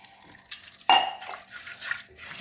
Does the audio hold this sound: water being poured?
yes